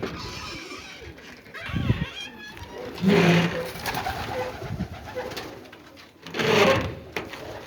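Pigeons that have been shut in coo in several low, throaty bursts spaced a few seconds apart, fairly close, with soft rustling and a faint background hum between calls.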